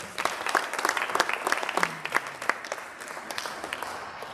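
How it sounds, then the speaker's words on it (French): Audience applause, a steady patter of many hands clapping that gradually thins out toward the end. "On peut l'applaudir, hein?"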